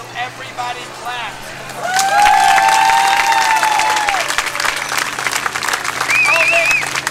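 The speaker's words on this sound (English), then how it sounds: "everybody clap" A street crowd at a Key West street entertainer's show claps for a juggler, with broad clapping rising after the first two seconds over outdoor hubbub and crowd voices, plus a whistle-like tone near the end.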